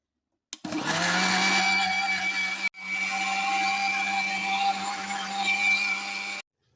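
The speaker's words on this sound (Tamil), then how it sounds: "இதை மிக்சி ஜாரில் போட்டு அரைச்சிக்கலாம்" An electric mixer grinder whirs as it blends cooked, cooled tomatoes in a mixie jar, a loud steady motor drone that cuts off briefly, restarts, then stops, with no talking.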